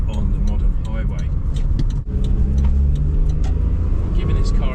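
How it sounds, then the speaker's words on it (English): A Perodua Nippa driving on the road under hard throttle, its engine droning low and steady with road and wind noise, while someone talks over it throughout. "I'm giving this car a bit of a workout just to blow out all the gunk and gunge from the engine"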